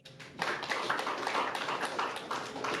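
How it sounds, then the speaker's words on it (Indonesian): Audience applause at a political gathering of former political prisoners, a dense crowd clapping that swells quickly and holds steady and loud throughout, with no voices over it. "Tepuk tangan."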